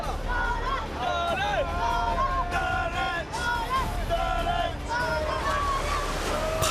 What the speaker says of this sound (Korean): 파도를 넘지 못해 균형을 잃은 배가 그만 바닷물에 잠기고 말았습니다.